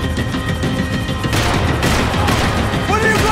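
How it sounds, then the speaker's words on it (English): Dense gunfire rattles through a Max Payne 3 firefight, continuous loud shots and bursts layered with game noise while a voice shouts over the action. "Max, shoot that bastard!"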